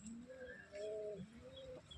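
Domestic pigeons kept at home coo in soft, rounded, repeated calls that rise and fall, close by over a steady low background hum.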